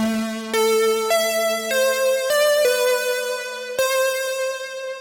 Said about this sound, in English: Something like you'd hear out of like a Juno or an Oberheim.